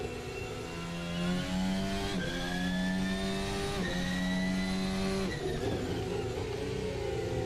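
An F1 race car in a racing video game drives on cold tires, its high-pitched engine whining steadily and rising through the gears with quick shift drops, close and continuous with no speech.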